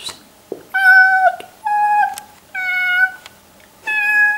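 Four drawn-out meows, clear and close, with short pauses between them, made by a human voice imitating a cat.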